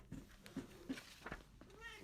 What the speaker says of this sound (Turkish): Şu anda Kimçi de yanımızda. Evet. Kendisi kedi oluyor